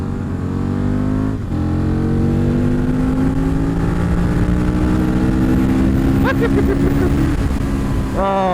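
A V-twin motorcycle engine pulls hard and loud, its rumbling note rising steadily through a long gear with a brief dip at a shift, and a voice comes in briefly near the end.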